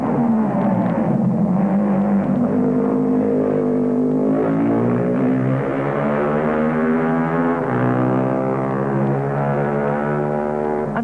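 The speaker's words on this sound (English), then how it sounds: "Here's another MV. A 250 twin this time, ridden by the brilliant Tarquinio Provini," An MV 250 twin racing motorcycle at the 1959 Isle of Man TT drones loudly and continuously, its engine note rising and falling as it runs through the course.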